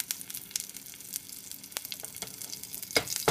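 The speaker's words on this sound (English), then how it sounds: "Let the onion seeds and the chili splutter for 1 to 2 minutes" Kalonji onion seeds and green chili splutter in hot oil in a pan, giving a steady close sizzle broken by sharp irregular pops and crackles, a cluster of louder bursts near the end, with no voices.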